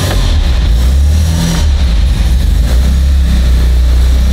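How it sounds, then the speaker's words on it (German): A Wankel-engine car revs loudly and steadily up close, its engine drone rising and falling with a buzzing, smooth tone. "dieser Wankel-Sound ist halt so ein ganz eigener Sound"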